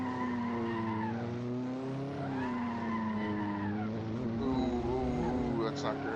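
Race car tires skid and squeal under locked-up braking in Assetto Corsa, a long wavering screech that rises and falls over steady engine drone, with a voice talking faintly beneath.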